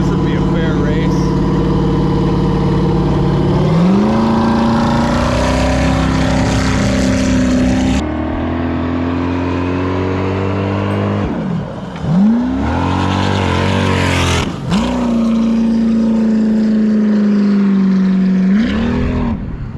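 An LS V8 engine in a jet ski screams at speed with a bored-out nozzle, loud and close, its pitch climbing, dropping and climbing again through several throttle surges with brief dips between.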